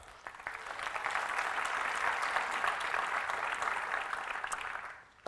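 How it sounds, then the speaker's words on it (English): Conference audience at ffconf 2017 applauding the volunteers, a dense, even wash of many hands clapping that builds over the first second, holds steady, then tapers off near the end with no voices over it. "Give them a round of applause."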